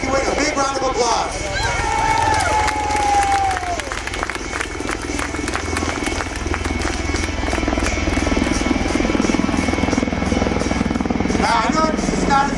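HH-60G rescue helicopters and an HC-130 of the 920th Rescue Wing at the 2008 Kennedy Space Center air show give off a loud, steady rotor and engine roar. Crowd noise and voices run beneath it throughout.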